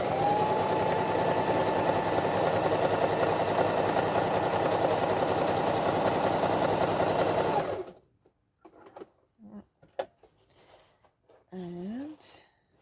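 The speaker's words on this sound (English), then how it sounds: "So I want to leave enough that I can sew around the edge afterwards." A sewing machine runs in a steady fast whirring stitch for about eight seconds while stitching a letterbox pocket, then stops, followed by quiet handling and a person talking.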